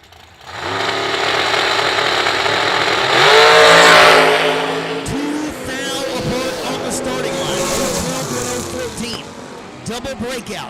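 A dragster engine at the IHRA World Finals drag race roars up loudly, peaks in a harsh wail, then fades as the car pulls away, with a track announcer talking throughout.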